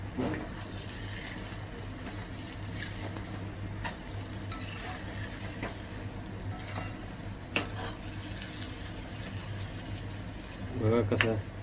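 Semolina sheera prasad with cardamom powder, raisins and tender tulsi leaves gets stirred in a pan, a soft continuous sizzle with occasional scrapes and clanks of the spoon, louder near the end, under a low steady hum.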